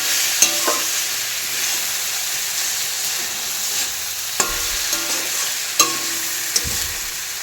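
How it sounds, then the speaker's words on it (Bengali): Food fries in a pan with a steady close sizzle, broken now and then by sharp clinks and scrapes of stirring. "এটা ভাজা হবে"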